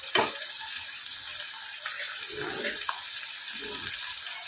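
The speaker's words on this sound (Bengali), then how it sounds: "এবার এটা আমরা একটুখানি ভাজা ভাজা মতো করে নেব" Vegetables frying in a pan give a steady, close sizzle, with a few soft scrapes and clatters from stirring.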